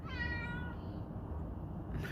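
A male cat meows at the door, begging after being fed wet food: a few drawn-out, high-pitched meows close by at the start, then quieter ambient noise.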